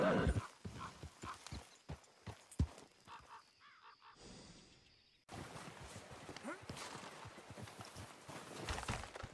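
Steady clip-clop of horse hooves on a hard surface with a brief whinny, a short quieter gap, then continued hoofbeats, game audio from Red Dead Redemption 2.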